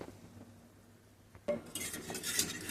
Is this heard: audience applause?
no